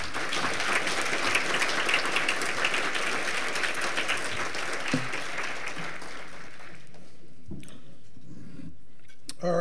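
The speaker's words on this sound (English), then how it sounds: "Can we have one more round of applause?" Sustained applause from a luncheon crowd at a scholarship award event fills the first six seconds, then thins to a few scattered claps and small clicks in a quieter room.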